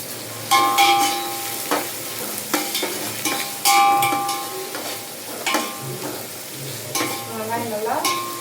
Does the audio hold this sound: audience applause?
no